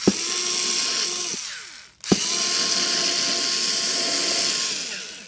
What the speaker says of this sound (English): I kind of can't really use this drill right here